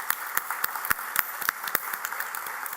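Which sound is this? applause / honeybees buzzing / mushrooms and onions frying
applause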